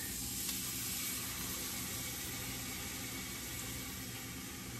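Almond milk hits a hot pan of sausage, giving a steady, even sizzle and hiss that holds at a constant low level throughout with no voices.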